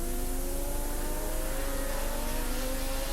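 Racing car engines droning loudly during a 1986 Swann Series touring car race at Oran Park, with steady whining engine tones that climb slowly in pitch under broadcast background noise.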